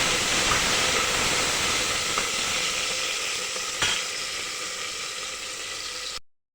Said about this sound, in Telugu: టమాటాలు కాస్త ఫ్రై అవ్వాలి.